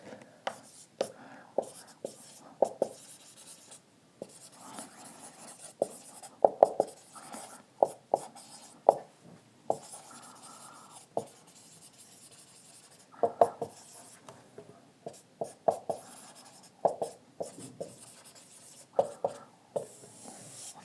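Marker strokes writing a heading on a board in a chemistry class, a steady run of short scratchy squeaks and taps in irregular bursts, fairly close, with faint breathing and soft room noise between strokes.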